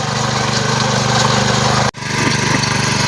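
A small power tiller engine runs loudly and steadily nearby with a throbbing drone, briefly dipping for an instant before resuming at full chug.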